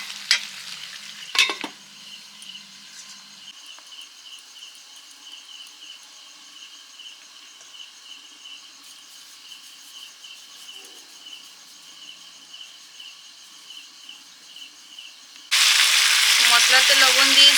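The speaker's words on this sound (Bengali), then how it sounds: "লাগিয়ে লাগিয়ে কুমড়ো আলুটা কষে নিচ্ছি মশলার সঙ্গে" Pumpkin and potato frying with spices for a sweet pumpkin chhokka. Mostly quiet with a soft steady insect-like chirring, then a loud burst of sizzling frying breaks in near the end.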